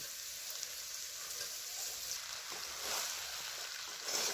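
Cooked rice is tipped into a spice tempering for masala rice and stirred, giving a soft, steady sizzle with faint rustling that swells near the end.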